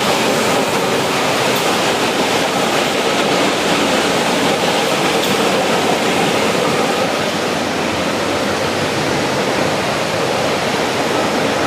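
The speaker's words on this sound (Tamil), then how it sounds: "ஓடுது பாருங்க உள்ள பிளேடு ஓடுது பாருங்க உள்ள" A granite cutting and polishing machine runs with its blade spinning, a loud, steady wash of grinding noise with no breaks or talk.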